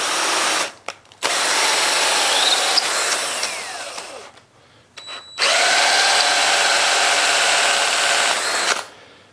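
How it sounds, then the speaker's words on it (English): A wire brush spun by a power drill cleans nut threads during a Cub Cadet LGTX1054 mower deck repair, whirring loudly in long close bursts with a brief pause and a gap partway through. "I'm going to take this wire brush here that's on the drill. I'm going to use that to clean out all of these threads."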